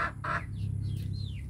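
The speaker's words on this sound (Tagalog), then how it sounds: "Yung manok." A chicken gives a few short clucks nearby on a provincial farm in the Philippines, followed by thin higher chirps, over a low background hum.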